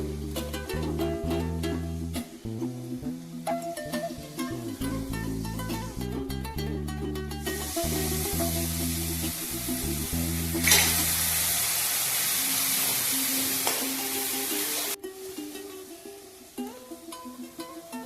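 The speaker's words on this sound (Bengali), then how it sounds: "পেঁয়াজগুলো কিছুটা ভাজা হয়ে এসছে এবার মশলাগুলোর সঙ্গে একটু ভাজাগুলো কষাতে হবে" Onions and spices fry in oil for a pumpkin-stalk chorchori. Background music plays at first, then a broad, steady sizzle takes over for several seconds before fading back under the music.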